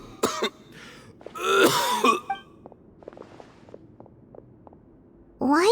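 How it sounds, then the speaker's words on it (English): A character in a Genshin Impact cutscene coughs and clears his throat in a few harsh bursts, separated by quiet footsteps, and then coughs once more at the end. "Why is he coughing so much?"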